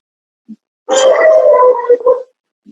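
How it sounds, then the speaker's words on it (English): A dog lets out one loud, wavering howl lasting over a second, close by, with a faint short sound just before and after it. "that's my dog joining in."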